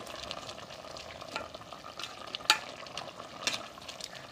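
Pork leg stir-fried with red curry paste sizzles steadily in a hot pan, with scraping stir strokes and a couple of sharper clanks from the utensil against the pan, no voices.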